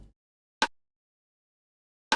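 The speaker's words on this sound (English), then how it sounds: "The rim sound like this." Two sharp, bright rimshot hits from a drum sample in an FL Studio hip hop R&B beat, spaced about one and a half seconds apart, each short and crisp against silence.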